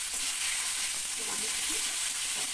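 Potato pieces and flat beans fry in oil, giving a loud, dense, continuous sizzle with some stirring movement underneath.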